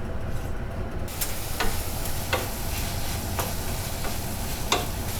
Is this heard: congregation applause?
no